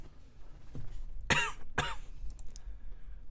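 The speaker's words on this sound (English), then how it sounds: "I collapse to my knees and cough" Two sharp, close coughs in quick succession from a character in the visual novel game Tsukihime, with a faint earlier throat sound and quiet background hum between them.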